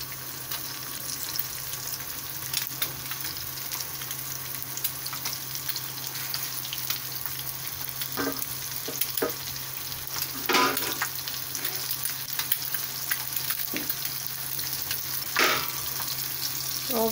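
Egg frying in a pan for a homestyle egg dish, with a steady close sizzle and crackle throughout and a few brief utensil clinks, no talking.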